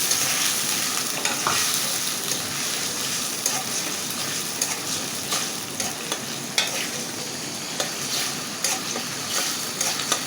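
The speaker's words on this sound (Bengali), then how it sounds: "এটা আমি সুন্দর করে কষিয়ে নেব" A paste of ginger, garlic, onion, green chili and cumin sizzles and crackles in hot oil in a pan as it is stirred. The frying is constant and close, with no talking.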